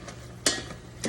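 Ground beef browning with seasonings in a pan for homemade stroganoff is stirred, giving a soft, steady sizzle broken by two brief louder scraping strokes, close and without talk.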